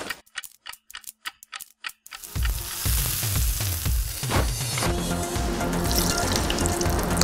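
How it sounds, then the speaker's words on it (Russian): Potato pieces drop into very hot vegetable oil in a heated pot and start a loud, close sizzle. The spitting and crackling stays steady to the end, after a few sharp knocks at the start. "Ой, как шипит."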